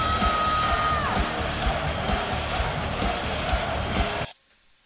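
A massive concert crowd at a show roars, cheers and sings along in a loud, dense, sustained wash that cuts off abruptly near the end.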